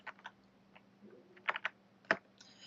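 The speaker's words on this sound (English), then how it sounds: "when we type new energy vehicles into the search box" Typing on a computer keyboard into a search box, a few quiet scattered key clicks followed by a short, crisp burst of keystrokes, close and faint.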